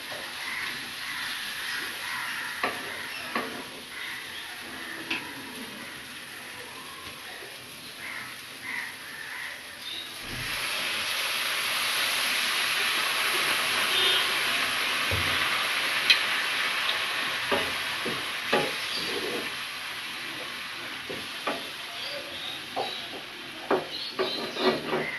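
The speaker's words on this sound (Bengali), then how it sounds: "মশলাটা কিছুক্ষণ কষিয়ে আমি এটার মধ্যে অল্প করে জল দিয়ে দিচ্ছি।" Spice paste sautéing in a pan for an aar fish curry, with a splash of water added midway that swells into a louder hiss before settling into a softer sizzle with scattered ticks and stirring clicks, no talk.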